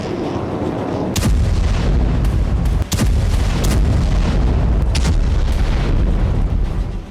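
Heavy explosions from Israeli bombardment near the Lebanon–Syria border boom one after another, loud and close, several sharp blasts breaking through a constant deep rumble, with no voices.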